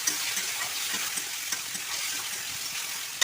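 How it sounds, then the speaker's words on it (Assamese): Boiled white gourd fries and sizzles in a pan with turmeric, a steady crackling hiss broken by occasional stirring scrapes, close and fairly quiet with no talking. "5 মিনিটমান ভাজিব লাগিব।"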